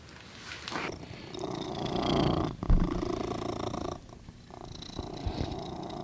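A cat purring close up, a soft rhythmic rumbling that rises and falls with its breathing, with a few brief pauses.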